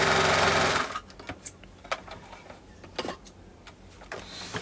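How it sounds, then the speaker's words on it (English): A sewing machine stitches a bodice dart in one steady, loud burst lasting about a second, then stops, leaving faint ticks and handling noises. "So you're going to make sure you note where it is and you're going to sew it."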